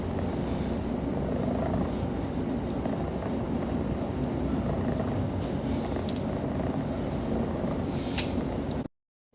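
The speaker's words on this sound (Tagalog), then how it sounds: "Pakinggan muna natin si Koizumi mag-purr." A cat named Koizumi purrs close to the microphone, a steady low rumbling that runs continuously for several seconds with no talking over it.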